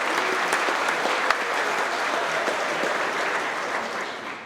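Steady, dense audience applause at a Melton Truck Lines monthly company celebration, many hands clapping evenly throughout before easing slightly at the end.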